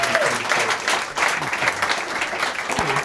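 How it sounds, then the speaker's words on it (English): Warm round of applause from an evening lecture audience, many hands clapping densely and steadily at close range, with faint murmurs mixed beneath. "Can we give him another round of applause"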